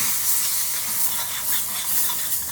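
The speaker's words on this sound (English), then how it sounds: "Go ahead and mix it on up" Nashville hot seasoning paste being mixed for baby back ribs, a steady close hiss and sizzle with soft scraping stirring throughout, no voices.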